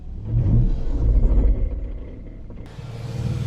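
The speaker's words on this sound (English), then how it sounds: "I hear the ABS motor activating" A Nissan truck's ABS pump motor whirs and rumbles loudly in short bursts up close while the brakes are bled, then drops to a quieter hum before another faint buzz starts.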